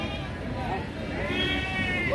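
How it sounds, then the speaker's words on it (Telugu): Sheep and goats bleating at a village livestock market in Gangadhara, with close, wavering bleats rising over a steady murmur of crowd babble. "మేకలు, గొర్రెపోతులు."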